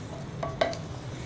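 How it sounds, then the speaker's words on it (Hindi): Cluster beans and potatoes stirred in a pan: a brief soft scrape and a couple of light clinks of the spoon over a low, constant sizzle, with no one speaking. "साथ ही मैं इसमें आलू भी डाल दूंगी, और इसको अच्छी तरह हिला के"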